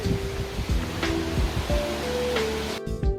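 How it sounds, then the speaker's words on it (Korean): Yukdam Falls, a waterfall over 40 m high on Seoraksan, heard from a suspension bridge right in front of it: a steady, loud broadband roar of falling water, continuous throughout with slight surges and a brief dip near the end. "육담교 육담 폭포 바로 앞에 있습니다"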